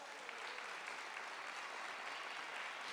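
A church congregation breaks into steady, dense applause, a continuous wash of many hands clapping at an even level throughout, with no voices standing out.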